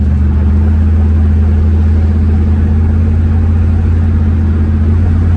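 A car with a 727 TorqueFlite automatic transmission cruises at about 60 mph, turning roughly 2,200 RPM. A loud, steady engine drone continues without a break for the whole stretch.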